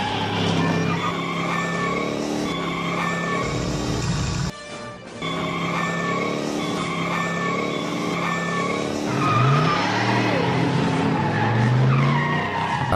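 A DeLorean's engine in the video game GTA 5 revs and roars steadily as tires skid and squeal, with a brief dip in the noise before the car speeds away.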